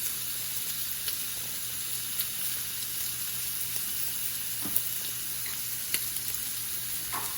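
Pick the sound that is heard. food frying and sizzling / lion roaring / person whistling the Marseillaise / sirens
food frying and sizzling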